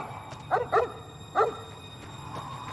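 Dog in the video game Fallout New Vegas giving a few short, mid-distance barks, two in quick succession and then a third after a pause, over a low ambient hum.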